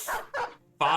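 War dogs in the video game Battle Brothers Legends give a few short, sharp barks and yips in a quick sequence, loud and close.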